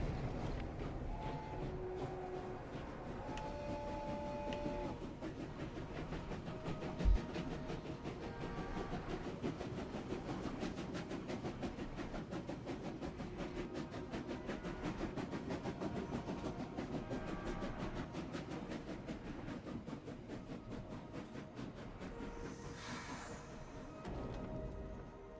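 A train rolls along rails in the video game Clair Obscur Expedition 33, a continuous rumbling clatter with rapid rhythmic ticks that holds steady for the whole stretch at moderate loudness, with no voices.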